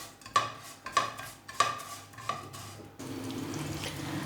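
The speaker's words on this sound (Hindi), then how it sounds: "अब इन्हें हल्का हल्का सा फ्राई करेंगे।" A spatula taps sharply against a pan four times while spices are lightly fried for aloo tikki, followed by a steady low sizzle of hot oil that continues to the end.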